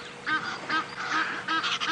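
Egyptian geese at a waterhole give repeated loud, harsh honks in quick bursts, close by with little else around them.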